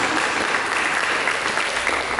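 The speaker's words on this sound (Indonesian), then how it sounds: "Mari berikan tepuk tangan bagi Yesus Kristus." A church congregation claps for Jesus Christ during a sermon, a loud, dense burst of applause filling the room with no voices over it.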